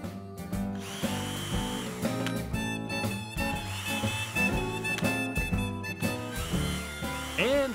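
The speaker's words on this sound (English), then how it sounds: "drill a hole through the center" A power drill whines loudly close by as it bores a hole through a wooden dowel. The motor pitch rises and falls in repeated bursts, broken by brief pauses, and no one speaks.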